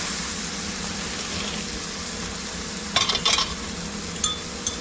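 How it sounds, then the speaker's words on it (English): Two pounds of rice is stirred and toasted in a pot, a steady soft hiss with a burst of scraping spoon strokes near the end, close and fairly loud. "I'm gonna do a little toast, not very long because I don't want it to burn"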